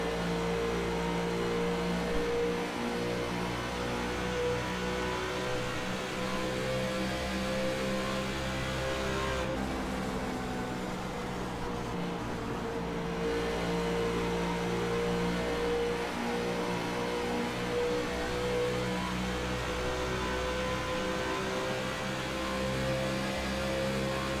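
An Xfinity Series race car at Texas heard onboard, its engine a loud continuous drone at steady high revs, briefly easing as the driver lifts off the throttle before pulling hard again.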